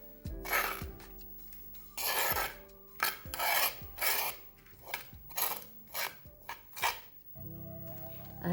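Seasoning spooned and poured over drained, squeezed papaya flowers for anyang, then mixed in a bowl, giving a run of rasping, scraping strokes with light clinks, repeated in short bursts, close and alone.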